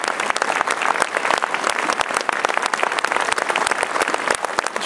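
An audience applauds at a New Year's concert, dense steady clapping filling the hall, loud and continuous throughout.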